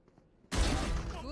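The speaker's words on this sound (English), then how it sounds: "Placing swarm grenade." A swarm grenade from Valorant lands with a sudden burst of dense, crackling noise that starts abruptly after a quiet moment and holds loud and near to the end.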